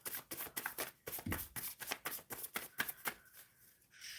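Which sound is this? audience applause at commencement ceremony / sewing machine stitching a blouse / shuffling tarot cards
shuffling tarot cards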